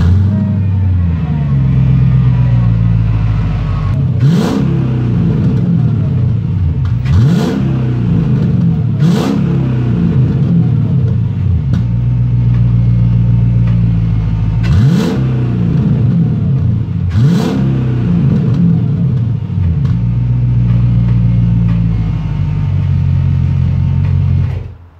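A turbocharged track car engine with a new exhaust replacing the quad AMG exhaust idles loudly close by, with a deep exhaust rumble and several sharp revs rising and falling at irregular intervals.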